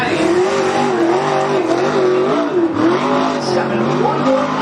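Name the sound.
modified race car engine on speedway track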